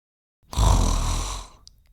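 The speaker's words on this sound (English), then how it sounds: "I've never heard him snore like that before." A single loud, rasping snore from a sleeping boy in a Barbie cartoon rises suddenly, holds for about a second and fades, with silence before and after.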